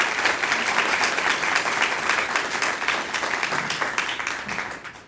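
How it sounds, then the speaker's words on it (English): Sustained audience applause at a tribute event honoring Thurgood Marshall, dense clapping from a sizable crowd that holds steady and then gradually tapers off toward the end. "If I could get another round of applause for our wonderful speakers who will be staying a little bit later"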